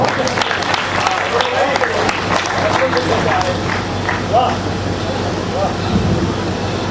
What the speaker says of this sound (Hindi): एक बार जोरदार तालियां हो जाए भैया